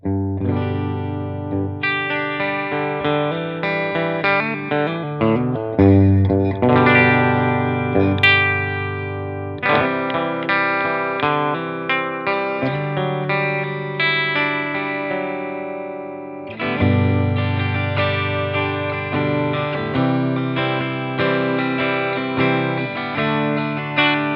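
Clean electric guitar on the bridge pickup of a Vintage V100 with a bright, twangy edge plays chords and single-note runs, ringing steadily with a short pause partway through.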